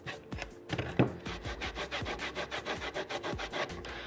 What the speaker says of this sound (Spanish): ya le he pasado el trapito, lo he limpiado, Ani, con todo.